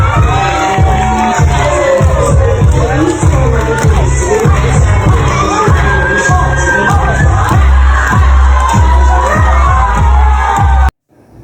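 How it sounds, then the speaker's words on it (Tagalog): A large audience cheers and shouts loudly and continuously for Marian Rivera's dance during a TikTok Clock guesting, with rhythmic clapping thumps running underneath before the noise cuts off abruptly near the end. "Sa kanyang pagsayaw, maraming pumapalakpak at nag-cheer sa kanya."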